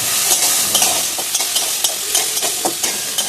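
Chili dropped into hot oil as a tempering for a Bengali dish: a loud, continuous, close sizzle with small crackles and stirring clicks, and no voices.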